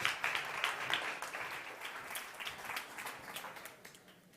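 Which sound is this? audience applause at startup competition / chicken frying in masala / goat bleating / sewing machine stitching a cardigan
audience applause at startup competition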